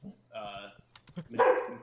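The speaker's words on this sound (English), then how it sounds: "your dog's pre-bark sounded like someone swinging a weapon at me" A pet dog gives a couple of short, sharp barks close to the microphone, brief and punchy against a quiet background.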